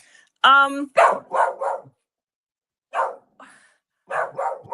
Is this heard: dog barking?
yes